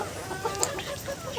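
Desi (native village) chickens clucking nearby in short, scattered calls, with a few brief higher chirps over a low background hum.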